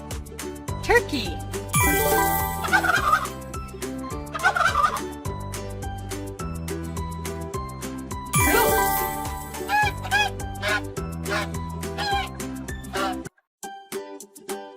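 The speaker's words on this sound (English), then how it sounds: "Turkey." A turkey gobbles in a few rapid warbling bursts, mixed into a steady, busy musical accompaniment that runs throughout.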